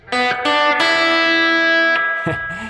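A distorted electric guitar plays a short bluesy phrase, a few picked notes leading into one long sustained note that rings loud before sliding off.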